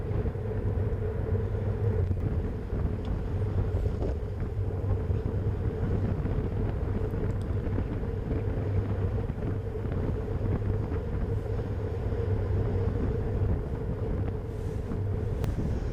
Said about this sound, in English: it's going to be a strong crosswind again